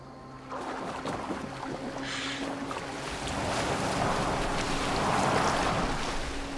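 Boat gliding across open water in Assassin's Creed Valhalla, a steady broadband wash of hull, waves and wind that swells louder in the second half, with no talk over it.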